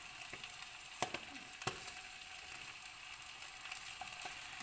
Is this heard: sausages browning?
yes